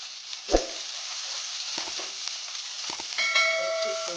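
Sliced onion, cumin and asafoetida sizzling in hot oil in a pot for dal khichdi: a soft, steady frying hiss with a thump and a few light clinks of a spoon against metal.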